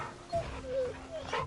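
A dog in the video game Final Fantasy XVI whimpers and yips softly while being petted, a few brief high whines scattered over a quiet, faintly humming background.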